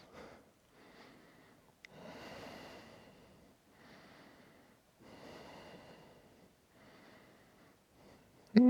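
Slow yoga breaths during a back bend in a vinyasa flow, with several long, soft inhales and exhales in a steady rhythm, close and breathy against near silence.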